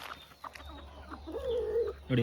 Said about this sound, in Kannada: ನಮ್ಮ ಕೋಳಿಗಳು ನೋಡಿ ಇಲ್ಲಿ ಯಾವ ರೀತಿ ಇದ್ದಾವೆಲ್ಲ